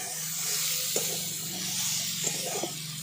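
Sliced okra frying in oil in a pan, a steady close sizzle with soft scraping as it is stirred, plus a few light knocks of the utensil.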